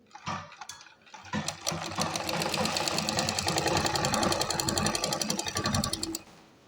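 A sewing machine stitching pleats into a salwar runs in one long, steady rapid clatter, close and loud, after a few brief starting knocks, then stops.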